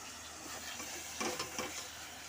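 Masala spice paste stir-fried in a pan for a meat kosha curry gives a faint, steady sizzle with a few soft scraping stirs near the middle, and no voices.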